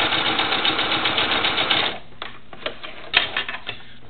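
A sewing machine stitches an invisible zipper using a zipper foot, with a steady, fast mechanical whir for about two seconds that stops abruptly, followed by a few light clicks and taps of handling.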